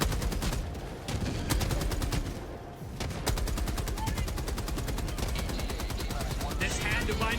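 Automatic turret fire in Helldivers 2, a relentless rapid stream of loud gunshots hammering in an even rhythm for the full stretch, briefly pausing twice, with excited voices talking underneath.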